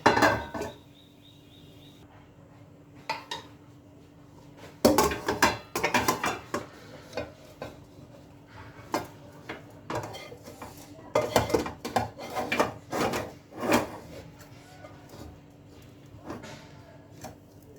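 Cooked semolina ladoo mixture scraped and tipped from a pan into a vessel, with a string of loud metallic clinks and scrapes of spoon against metal in irregular bursts, close by, no talk.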